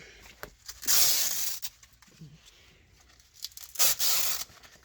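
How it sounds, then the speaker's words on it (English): Hook-and-loop straps on Chevy/GMC truck bucket seats are peeled apart, giving two loud, close ripping tears separated by quieter handling noises. "get all these straps out of the way. Just peel them all apart."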